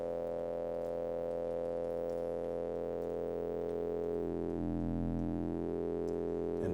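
A synthesizer's multimode filter with resonance, part of a test-equipment music studio, produces a steady sustained tone whose pitch sweeps down and back up near the end, alone without speech.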